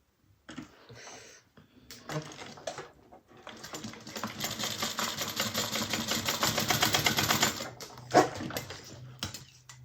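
A sewing machine stitches a 3/8-inch seam joining the short ends of a fabric bag strap, starting with a few short bursts and then running steadily, close and clear.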